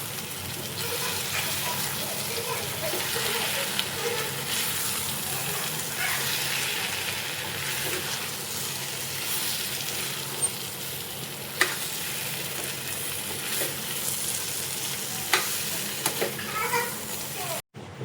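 Boiled potatoes are mixed in a hot pan with lemon juice for a dry potato bhaji, giving a continuous sizzle with stirring scrapes and a few sharp clinks near the end.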